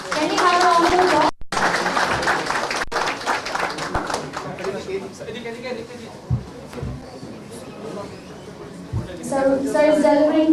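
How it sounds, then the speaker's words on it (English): Clapping from the audience at a Bangladesh-Canada friendship anniversary ceremony, a sustained patter of applause running throughout, with a public-address voice and background chatter heard over it. "Can we have a round of applause?"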